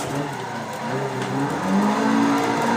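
A Nissan 180SX engine in Assetto Corsa drones at high revs above 4,000 RPM, its pitch shifting and climbing slightly, with a synthetic, game-like steadiness and no voices.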